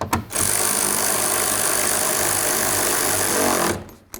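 Side mirror mounting nuts on a 1994-2004 Chevy S-10 being tightened with a power tool, one loud continuous whirring run of about three and a half seconds that starts and stops abruptly, close up.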